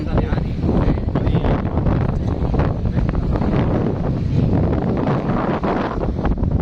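Strong wind buffets the microphone on the Mykonos coast in September, a loud continuous roar and rumble with gusty swells and a voice talking over it.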